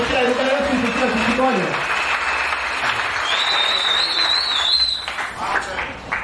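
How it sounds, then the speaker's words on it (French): A church congregation at a pastor's service applauding loudly and continuously, a dense roar of clapping with a voice at the start and a high whistling tone rising above it midway. "Acclamons très fort le Seigneur Jésus-Christ."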